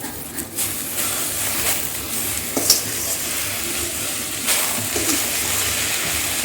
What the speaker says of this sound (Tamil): இப்போ கீரையை போட்டு அதே மாதிரி வதக்கிக்கணும்